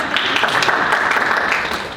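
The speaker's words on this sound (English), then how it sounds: "Oh, go ahead and clap." An audience claps at a home inspection presentation, a steady, moderately loud wash of many hands that holds evenly and then starts to fade toward the end.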